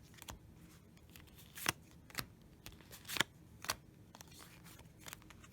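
An oracle card deck being shuffled, with several quick riffling bursts and soft snaps spaced irregularly, close and fairly quiet with no talking.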